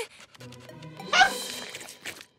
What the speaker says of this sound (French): Écoute cet aboiement majestueux